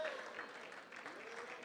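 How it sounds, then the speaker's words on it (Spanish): Church congregation at a Spanish-language sermon applauding together, a faint, distant, steady patter of clapping with a voice speaking over it. "Y toda la iglesia que lo ha creído lo confirma con otro fuerte aplauso"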